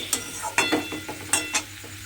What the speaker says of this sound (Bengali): এবার সমস্ত গুঁড়ো মশলাগুলো দিয়ে খুব ভালোভাবে একটু কষিয়ে নিতে হবে